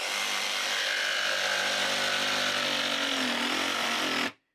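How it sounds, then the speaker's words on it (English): A cordless saw cuts through wood with a loud, steady, buzzing rasp for about four seconds, then stops abruptly. "So again, have the saw running before you start your cut."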